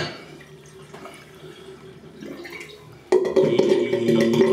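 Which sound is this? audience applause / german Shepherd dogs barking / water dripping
water dripping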